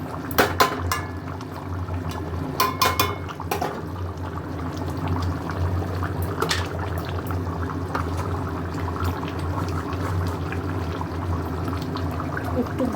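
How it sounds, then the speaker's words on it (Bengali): Potatoes boil in a pot, a continuous bubbling, rolling wash of water noise with a few sharp clinks near the start, steady and close throughout. "আলুটা সেদ্ধ হতে যেটুকু টাইম লাগবে"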